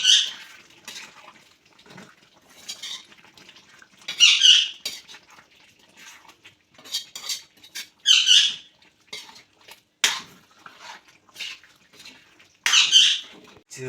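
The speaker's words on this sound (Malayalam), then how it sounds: "എന്നിട്ടൊന്ന് നല്ലോണം തിരിച്ചും മറിച്ചിട്ട് ഇളക്കി കൊടുക്കുക." Kadai chicken curry is stirred and turned over in a pan, giving close squeaky scrapes and clinks in irregular bursts, with quiet gaps between them.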